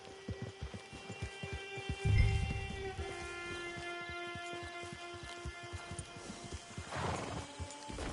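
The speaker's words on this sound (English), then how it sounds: "Get your horse." In a video game, a horse whinnies once amid steady clip-clopping hooves, with a low droning tone underneath throughout.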